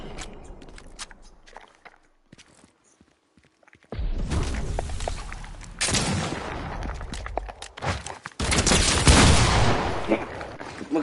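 Sniper rifle fire in a video game, with a bolt-action rifle in use: quiet clicks and footsteps give way to loud sudden blasts and a sustained roar of gunfire, close and harsh, with no talking.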